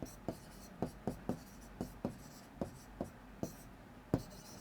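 Pen or chalk strokes writing a ratio, a series of about a dozen short, crisp taps and scratches in an irregular rhythm, close and fairly quiet against low room noise.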